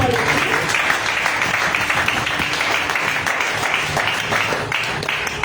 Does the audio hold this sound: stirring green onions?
no